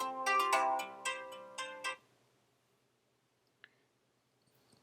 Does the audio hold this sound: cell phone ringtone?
yes